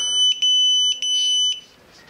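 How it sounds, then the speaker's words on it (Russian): A small cheap camera from China beeps, apparently objecting to its memory card: a series of sharp, high electronic beeps at an uneven rhythm, close and loud, with no voices. "Оно пищит, видать, не нравится ей карта памяти."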